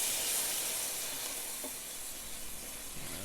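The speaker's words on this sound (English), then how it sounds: "So I'm going to deglaze this with a little white wine." White wine hits a hot pan holding browned, softened cherry peppers and other manicotti filling ingredients, giving a steady, close hissing sizzle that holds for a few seconds and eases slightly toward the end, with no talking.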